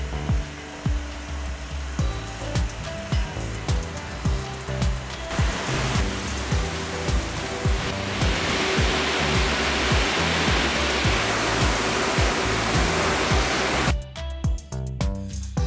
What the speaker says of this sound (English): Application of disinfectant is then carried out using the Atom, a self-propelled sprayer